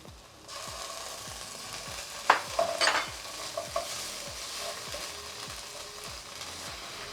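Ginger, garlic and turmeric sizzling in a frying pan, a soft, steady fry with a few sharper crackles and stirring scrapes in the middle, no talking.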